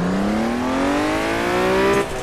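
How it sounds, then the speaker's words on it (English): A Honda NSX engine in the Assetto Corsa racing game revs hard under heavy throttle at a kart circuit, a loud rising whine climbing steadily in pitch for about two seconds before easing off abruptly. "you know that engine really adds some decibels when it's revving hard and under a lot of throttle"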